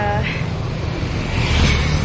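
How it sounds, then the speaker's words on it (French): Strong wind pressing against a hand-held umbrella in Malaysia, a loud continuous rush and buffeting roar close to the microphone that swells slightly near the end. "on sent comment le vent il force énormément sur mon parapluie"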